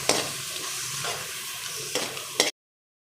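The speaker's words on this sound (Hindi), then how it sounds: "अभी यहाँ पे इसको घी के साथ हमने अच्छी तरीके से प्याज को भूनना है।" Onions frying in ghee in a kadhai give a steady close sizzle, with a few stirring scrapes and a louder clatter just before it cuts off; nobody speaks.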